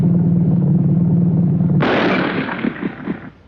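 A Boys anti-tank rifle fires at a tank in a 1942 wartime training film: a sharp, loud blast cuts through a droning engine-like hum, followed by a rumbling decay with several smaller thumps.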